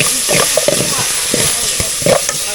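Pork belly stir-fried in a pan as the first step of a Thai curry, a steady sizzle with scraping stirs and clinks of a spatula, close and fairly loud with no talking.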